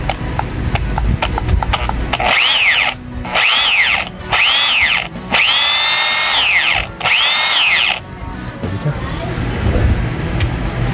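A heavy impact drill test run in hammer mode gives about five sharp whining bursts that spin up and wind down, each lasting a second or two, close and loud, with some background noise between.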